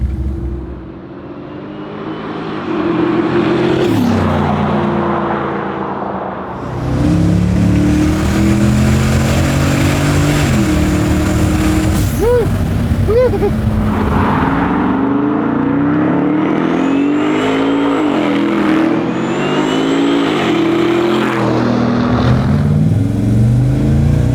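A twin-turbo 1967 Chevy Nova restomod, running on low boost, roars loudly as it accelerates through rising and falling gear pulls with a turbo whine, heard from inside or close by.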